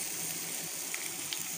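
Quail pieces fry in oil with pepper, a short, steady, bright sizzle hissing evenly throughout with tiny pops, close and moderately loud, with no talking.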